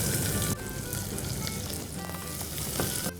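Chopped onions hit hot oil in a pan for moong masoor dal, a loud burst of sizzling that settles into a steady, crackling fry with faint stirring.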